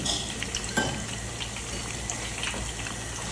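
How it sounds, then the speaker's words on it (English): Vegetables sautéing in oil in a pan give a soft, steady sizzle with a few brief stirring clicks, fairly quiet and close. "We are going to saute the veggies"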